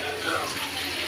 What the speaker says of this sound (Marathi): आता आपण पाणी भाजीमध्ये टाकून घेऊ.